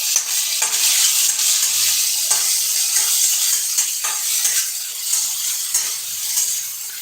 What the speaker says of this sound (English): This is already turning into a little bit brown, and that is a good thing, because we want the onions to cook nicely